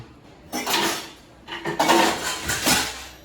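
Kitchen knife and metal utensils clatter into a drawer in two loud bursts of rattling, scraping clinks, with a short pause between them.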